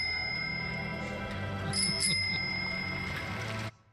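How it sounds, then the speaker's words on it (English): A bicycle bell on a girl's bike in a film scene rings in a few bright, clear dings over a steady background, then the sound cuts off abruptly near the end. "Maybe he can ring the bell while he's at it."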